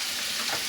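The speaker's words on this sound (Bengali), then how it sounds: "আলুটা ভাজা ভাজা হয়ে গেছে।" Potatoes fry in a hot pan for a potato curry, giving a steady, close, crackling sizzle with no voices.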